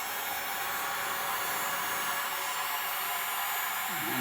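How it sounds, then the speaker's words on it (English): Steady, loud broadband blowing noise with a low hum from a hair dryer or heat gun heating electrical wiring, running continuously with no talking. "you're going to take a hair dryer or a heat gun"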